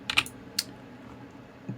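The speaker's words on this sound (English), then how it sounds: "I'm just pressing L and left clicking it" Keyboard key presses and mouse clicks while building a 3D scene, a few quick sharp clicks close together near the start and another just after, then quiet.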